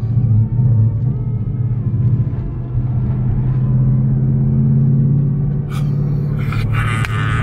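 A 2015 Ford Mustang GT with the Performance Package pulls steadily after a manual gear change, its engine a loud, sustained low rumble that holds throughout, with no talking.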